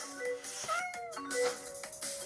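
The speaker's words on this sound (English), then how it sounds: "Whoa, two pussy cats on my table." Cartoonish cat meows from a video game, several short rising and falling mewing calls in quick succession over busy game music and effects.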